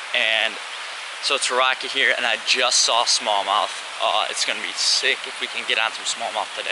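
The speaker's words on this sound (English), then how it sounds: "Sorry about the audio, the waterfalls in the background" A waterfall on a rocky urban creek makes a steady broadband rush in the background, largely masked by someone talking close over it throughout.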